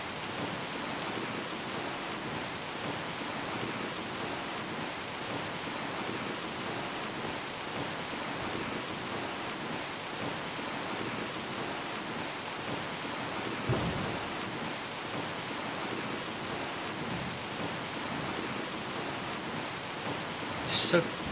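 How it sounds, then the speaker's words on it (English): Steady pouring rain hisses throughout a stormy scene in the game Skyrim, with a brief thunder rumble around the middle and a short louder burst near the end, all fairly faint. "going from the quiet back down to the pouring rain"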